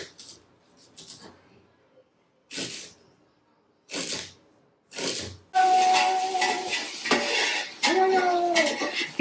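Metal spoon scraping and clanking in a pot of mutton biryani, bursts of clatter with pauses, then a louder continuous stretch of stirring with a steady hiss from the stove.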